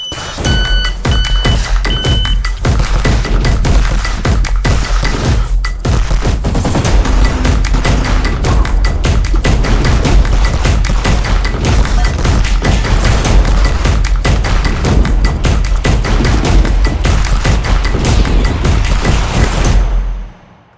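Rapid, continuous gunfire from a pistol caliber carbine on an IPSC stage at the PCC World Shoot in the Czech Republic, loud and close, with dense volleys of shots that run without a break for about twenty seconds before cutting off.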